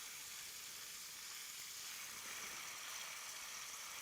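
Risotto sizzling steadily in a pan as it is stirred, a continuous bright frying hiss with faint scraping, close and even throughout with no voices.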